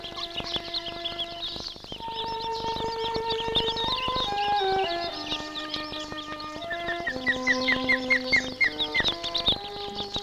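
Mallard ducklings on a Scottish loch in spring, with high, repeated peeping chirps woven through a continuous background of tonal music.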